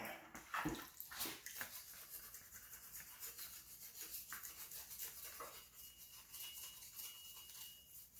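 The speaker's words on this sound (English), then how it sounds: "let's start scrubbing her down." A Neuspeed strut bar for a 1988–91 Honda EF Civic is scrubbed with water, giving close, quiet wet brushing and rubbing strokes with splashes and drips in an irregular rhythm.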